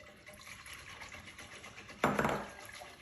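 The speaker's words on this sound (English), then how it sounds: "I'm just gonna pour it into my big pot here." A masa and water mixture is poured into a large cooking pot, a short splashing gush lasting about a second after a quiet kitchen background.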